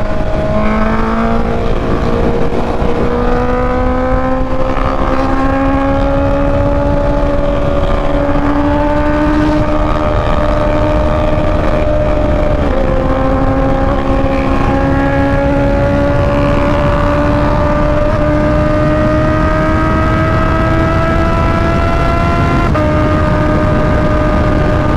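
A Honda CB650R motorcycle running a gutted Yamaha R1 stock exhaust gives a loud, continuous engine drone whose pitch climbs slowly and steadily, with no voices.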